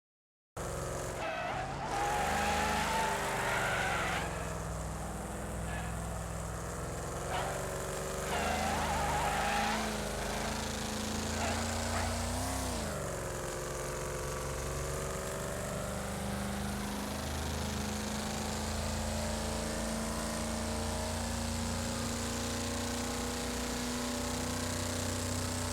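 Car engine in the racing game Wreckfest, a steady droning hum with rising and falling pitch as the car accelerates and corners, loud and continuous throughout with no voices.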